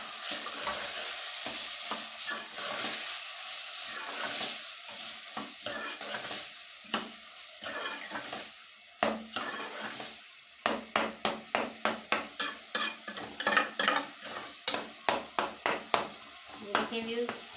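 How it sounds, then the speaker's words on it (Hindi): Keema and masala frying in a pan, stirred steadily with a broad sizzle, then a run of sharp rhythmic scraping strokes of the spoon against the pan toward the end; no talking. "साथ साथ हमारा मसाला भी भूनना जा रहा है और साथ साथ कीमा भी इस तरीके से बनाई होगी।"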